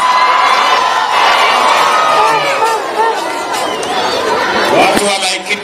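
A large outdoor crowd at President Ruto's rally in Laikipia County cheers, whoops and claps with rising and falling shouts for several seconds, near and loud.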